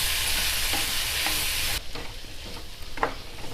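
Onions, tomatoes and spices for kara chutney sautéed with salt in a pan, a steady sizzle under a dense frying hiss that drops off halfway, then quieter stirring scrapes alone.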